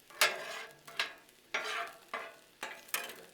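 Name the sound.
egg frying with Hatch chili and cheddar on Blackstone griddle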